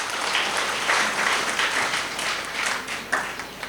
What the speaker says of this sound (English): I extend my heartiest congratulations to you with a round of applause